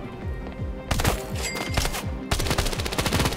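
The SM-110 gun in Standoff 2 fires rapid automatic bursts with sharp, punchy reports, first one short burst and then two longer strings separated by brief gaps, loud and close.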